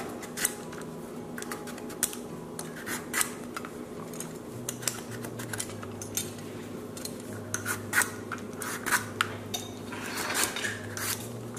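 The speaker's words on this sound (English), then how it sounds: "And just take the harder skin out." Hard skin being scraped and peeled off a buffalo gourd or butternut squash with a knife, giving a run of close, irregular rasping scrapes and small clicks over a steady low hum, with no talking.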